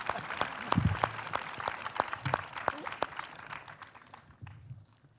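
A debate audience gives a scattered round of hand clapping, sharp separate claps at first, then thinning and fading toward the end, heard fairly close.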